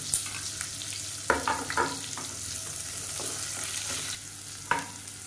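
Finely chopped small shallots sautéing in a pan for an immunity-boosting soup, a steady close sizzle with a few sharp stirring clatters.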